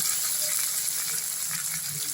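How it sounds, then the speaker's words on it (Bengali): Winter cauliflower frying with onions in a hot pan gives a steady, close, dense sizzle that crackles evenly throughout, with no voices. "ফুলকপিটাও আমি একটু ভেজে নিচ্ছি"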